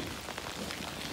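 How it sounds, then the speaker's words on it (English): Rain falling steadily during a mountain hike on a hillside trail, a continuous close hiss of drops with no talk. "it's raining"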